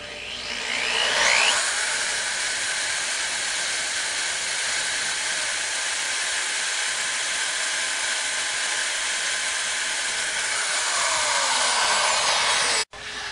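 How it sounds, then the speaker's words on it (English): A power drill runs steadily for about twelve seconds while drilling a flat, level hole for a monster valve, a loud continuous whine and hiss that spins up at the start and cuts off abruptly at the end, with no talking. "Hold your drill as flat and level as possible."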